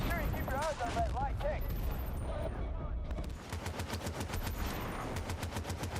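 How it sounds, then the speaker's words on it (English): Rapid repeating bursts from an Apache helicopter gun in a video game, loud steady rattling with even pulses, close, while a voice talks over it at the start. "When you just burst fire it, the recoil seems to spread the rounds a bit more."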